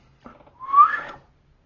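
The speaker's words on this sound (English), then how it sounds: "we call that a whistle" A single short whistle, a brief rising tone lasting under a second, heard alone in quiet.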